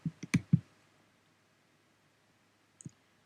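A computer mouse clicks on a software tab: four quick, close clicks in a rapid cluster, a pause of silence, then a final soft double click.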